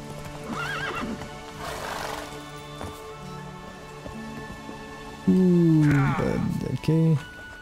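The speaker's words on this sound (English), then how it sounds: "There's a horse. It's stuck, of course, what else?" A horse in the video game The Witcher 3 clip-clops over game music and ambience, then gives two loud whinnies close by near the end.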